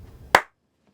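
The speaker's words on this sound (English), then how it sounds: "Ready for the hand clap?" A single sharp hand clap rings out once after a short stretch of quiet murmuring, followed by silence.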